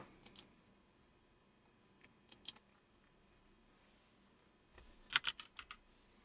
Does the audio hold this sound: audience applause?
no